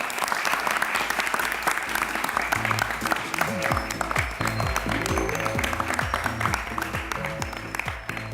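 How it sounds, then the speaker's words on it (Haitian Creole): An audience at a International Women's Day event in Haiti bursts into sustained applause for a speaker, dense clapping throughout, while a voice speaks over it partway. "Je vous demande d'applaudir, s'il vous plaît, Diana Marsla"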